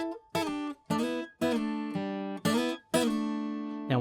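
Guitar plays a song at full tempo: clear, loud, harmonically rich plucked notes and chords in a steady phrase of six or seven strikes, each ringing out, with no talk.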